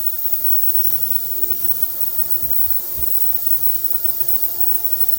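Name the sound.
ultrasonic cleaner running and buzzing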